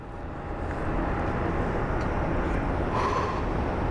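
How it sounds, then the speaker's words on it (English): A small CRJ regional jet idles at Phoenix Sky Harbor airport, producing a steady broadband roar that holds at constant loudness throughout, with a faint whine riding on top and no voices. "we have a little CRJ awaiting to depart"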